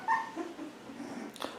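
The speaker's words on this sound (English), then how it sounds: "Now we're having puppy on puppy violence here." Young puppies play-fight and give high whimpering yelps and yips, close by, in a brief burst of a few squeals with no talk over them.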